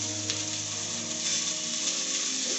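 Green chili, mint, fenugreek leaves and coriander sizzle steadily in hot oil in a pan while mutton curry is being made, giving a close, even frying hiss throughout with a faint clink near the start.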